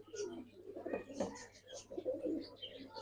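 Pigeons coo softly in a loft, a low, fairly quiet murmur of overlapping calls with a few faint chirps and a steady low hum beneath.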